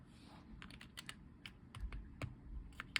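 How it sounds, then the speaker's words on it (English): The spacebar of a mechanical keyboard fitted with Hyperglide switches is pressed repeatedly, giving a rapid series of soft, close clacks with slightly irregular spacing, very quiet and with nothing else heard. "now we're going to test the spacebar."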